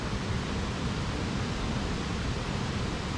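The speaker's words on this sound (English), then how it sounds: "Just listen to the water trundling over the weir." River water pours steadily over a weir, a dense, continuous rushing roar that stays loud and even throughout, with no voices.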